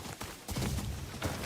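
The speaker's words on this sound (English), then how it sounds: "That's my horse over there." Horse hooves clip-clop in the video game Ghost of Yotei, a short run of quick, close thuds lasting barely over a second.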